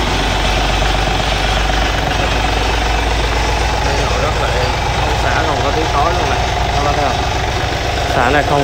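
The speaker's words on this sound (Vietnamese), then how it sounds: "Nghe đây chứ máy nổ, máy nổ rất là êm" A Yanmar F210 tractor's diesel engine idles steadily close by, a continuous low rumble with rhythmic chugging, while someone talks over it throughout.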